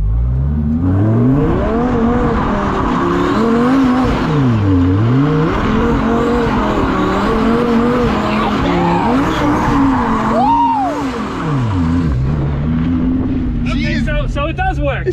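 A car drifting, its tires squealing in a long, wavering, rising and falling screech that runs almost without a break, loud and close over a steady engine roar.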